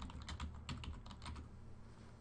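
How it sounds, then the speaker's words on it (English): Typing on a computer keyboard, a close run of quick clicky keystrokes in uneven bursts over a faint background hum, with no voices. "then in the search field, type in your name"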